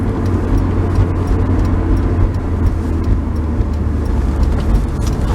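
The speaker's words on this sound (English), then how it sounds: "Run it up the ramp here and kind of show you how nicely it drives." A 2002 Honda S2000 convertible roadster with a six-speed manual drives up a ramp, its engine a steady, close, continuous rumble with road and wind noise and no talking.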